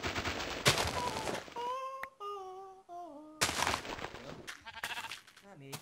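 A Minecraft sheep bleats several times in short wavering cries, interleaved with loud gameplay sounds and someone talking.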